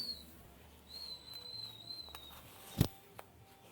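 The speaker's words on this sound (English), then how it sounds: "the tea starts whistling over there" A tea kettle whistles in a quiet home kitchen, a thin steady tone that rises and holds for a couple of seconds, then a soft knock sounds close by.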